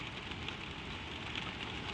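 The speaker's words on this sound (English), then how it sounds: "It is a soft, steady rain" Soft, steady rain falls evenly with a constant gentle hiss, no wind or other sounds, continuous and moderately close.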